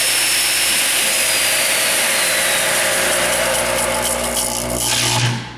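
Kalamazoo FA350A non-ferrous automatic cold saw blade spinning alone with a loud, steady whine, then the brake engages and the blade spins down at the end.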